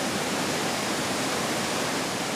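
Wapama Falls, a 1,400-foot waterfall in Yosemite, gives a steady, dense roar of falling water that fills the whole clip evenly, with no voices.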